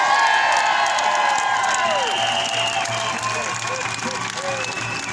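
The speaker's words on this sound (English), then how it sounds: "Give her a big round of applause" Loud outdoor crowd applause at a freedom rally in Trafalgar Square, London, sustained clapping mixed with cheers and whoops, filling the whole stretch at steady strength.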